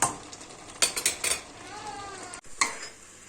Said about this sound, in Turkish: Arada bir karıştırarak pişirmeye devam ediyorum.